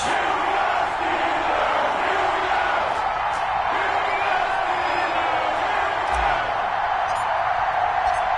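A simulated stadium crowd cheers in a PS4 football video game before a Miami Dolphins versus Pittsburgh Steelers matchup, a steady, loud roar of voices that holds for several seconds with no break.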